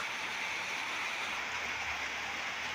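Steady rain falling on a rural farmyard where ducks and geese are kept, a constant even hiss at moderate distance with no voices.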